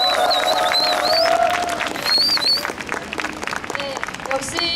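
Audience at a Korean public rally in support of Miryang residents opposing a transmission tower breaks into clapping and cheering, a dense crowd wash with voices shouting and talking over it.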